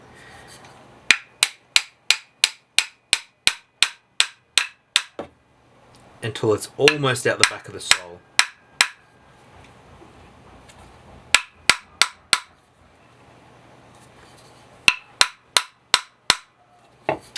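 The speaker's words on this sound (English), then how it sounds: "what we're going to do is just going to tap the blade down" A Japanese hammer taps a hand plane blade down into the plane body in quick sharp metallic strikes, several even series of rapid taps separated by pauses, with someone speaking between the bursts.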